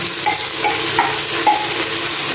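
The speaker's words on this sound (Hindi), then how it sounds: "ये दो बारीक चॉप किए हुए टमाटर ये इसमें डालेंगे" Finely chopped tomatoes tossed into spices frying in a pot, giving a loud steady sizzle with stirring scrapes throughout and no talking.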